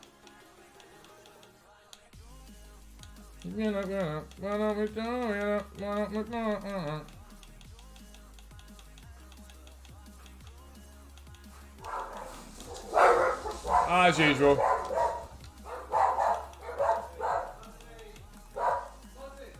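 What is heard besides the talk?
dog barking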